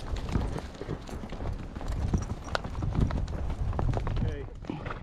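Horse hooves clip-clopping on a trail while a colt is being ridden, a steady rhythmic stream of close hoofbeats with rustling, occasional voices and a faint whinny mixed in.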